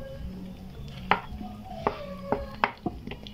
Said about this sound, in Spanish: ya estoy picando la papayita